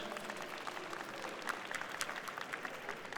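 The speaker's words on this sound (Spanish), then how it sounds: "Un fuerte aplauso para Mariana." A panel audience gives a fairly faint, steady round of applause, the clapping sounding somewhat distant and even throughout.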